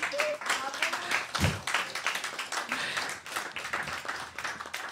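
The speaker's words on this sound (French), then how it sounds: "je vous propose de faire un petit applaudissement pour vous féliciter d'être ici ce soir" An audience at the close of a French-language evening conference on emotional dependency applauds with dense, continuous clapping, a few voices mixed in underneath.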